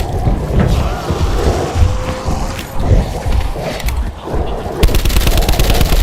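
Gunfire in Black Ops 4 zombies: dense, loud rattling shots over a rumbling game soundscape, with a faster buzzing burst of fire near the end.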